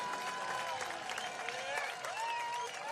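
Soccer crowd at a Charlotte Independence home match against New York Red Bulls II applauding a goal, a continuous dense clapping with scattered shouts and whistles throughout.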